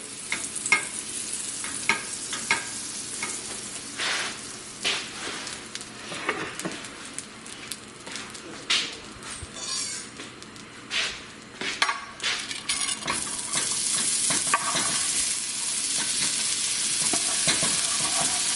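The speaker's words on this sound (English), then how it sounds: "So I'm going to saute the onions in a big chunk of butter" Onions sauteing in a big chunk of butter in a pan, a steady close sizzle broken by utensil scrapes, stirring clatter and metallic taps, growing more even toward the end.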